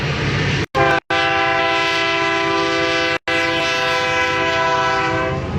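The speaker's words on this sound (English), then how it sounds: "You guys can see one of the massive trains that are about to go by." A passing freight train in the United States blasts its horn loud and close, the long blare broken by a few brief gaps over heavy rumbling.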